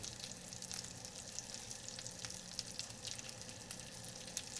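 Pork belly fries in a pan for a spicy pasta dish, giving a quiet, continuous sizzle with scattered crackles and pops and no voices.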